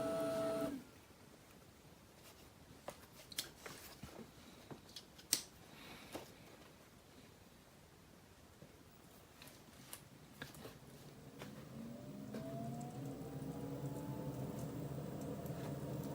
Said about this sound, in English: Now I'm just gonna connect the D5 pump so we can maybe try to compare how both of them sound